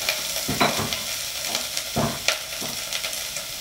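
Red curry paste stir-fried in a pan for a spicy beef curry with cumin leaves, a loud close sizzle punctuated by repeated spatula scrapes and clanks.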